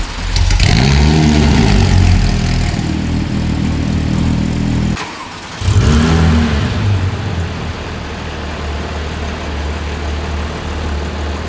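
Porsche 997 GT3 RS with a Mezger flat-six and IPE exhaust revs loudly up close in two sharp throttle blips separated by a brief pause, then settles into a steady rumbling idle.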